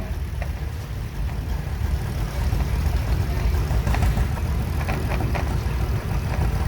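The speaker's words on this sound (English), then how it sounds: "It's a 1955 John Deere Model 60, also owned by the Bailey family out of Sardinia." A 1955 John Deere Model 60 tractor runs in an antique tractor parade, its low engine rumble steady and fairly loud, thickening midway with faint outdoor crowd noise around it.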